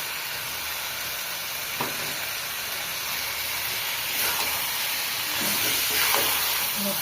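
Spiced potatoes fry steadily in a pan, a continuous close sizzle with a few brief louder crackles and stirring bursts, growing slightly louder toward the end with no talk.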